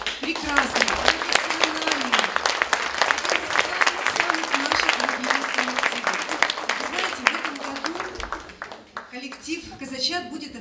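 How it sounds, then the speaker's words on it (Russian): A concert audience at a children's arts school applauds a performing ensemble, dense clapping from many hands under a presenter's voice speaking over it, with the applause thinning toward the end. "Я думаю, что вы еще раз подарите огромные аплодисменты этому коллективу."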